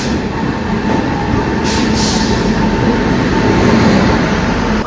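A train rumbling steadily through Suravali station in Goa, a loud continuous low roar of wheels and engine close by with a brief hiss partway through.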